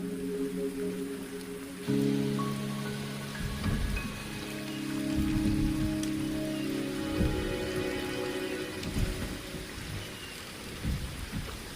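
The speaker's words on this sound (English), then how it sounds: "The rain is subsiding, and the sky will soon clear." Steady video game rain patters throughout, mixed with low rumbling thunder and a droning ambient tone, with occasional heavier bursts of rumble, in Wuthering Waves.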